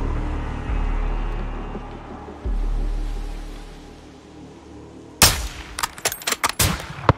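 Gunfire in Call of Duty: Modern Warfare II: a rapid series of sharp, loud shots in the last two seconds, after a stretch of low rumbling ambience and engine-like drone.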